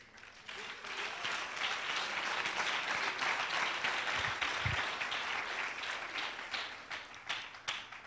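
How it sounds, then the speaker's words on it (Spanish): Congregation applauding during a church sermon, clapping that swells after a quiet start, holds steady, then tapers off into scattered claps. "Y un aplauso al Señor"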